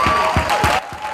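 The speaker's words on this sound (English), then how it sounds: "Here we have a big round of applause for Tetteh Caruthers" Brief burst of crowd applause for a disability rights advocate, a dense wash of clapping with a few heavy thumps and a faint tonal hum underneath.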